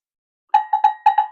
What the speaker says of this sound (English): It's called a go-go bell.